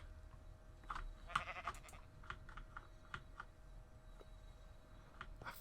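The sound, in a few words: noisy sheep bleating in a video game (Agrarian Skies)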